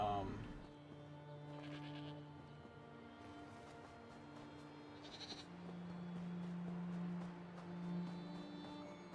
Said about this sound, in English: And a goat. I like goats.